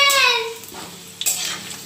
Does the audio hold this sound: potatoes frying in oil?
yes